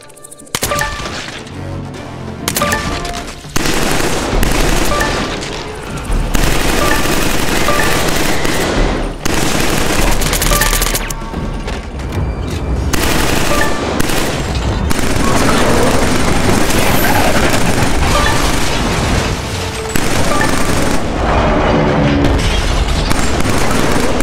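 Heavy gunfire in the video game Killzone 3, long loud bursts of automatic shots and booming blasts that continue almost nonstop, with short pauses between volleys.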